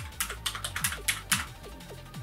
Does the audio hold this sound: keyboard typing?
yes